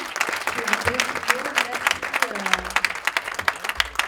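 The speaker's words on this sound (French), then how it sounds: "Pour la photo, c'est des applaudissements." A crowd applauds with dense clapping throughout, while voices murmur and talk over it nearby.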